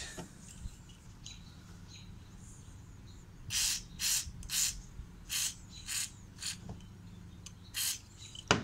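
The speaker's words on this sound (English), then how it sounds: "I'm going to go ahead and spray that with some WD-40" Short hissing bursts of WD-40 aerosol spray on an old tool, about nine quick squirts in an irregular rhythm, close and fairly quiet over a low background hum.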